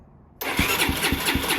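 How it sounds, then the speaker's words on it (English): A 1989 Honda NX250 motorcycle engine cranks and catches after carburetor work, sounding close and loud, with a steady rhythmic chugging of regular pulses about four per second. "Come on, bike, turn over for me."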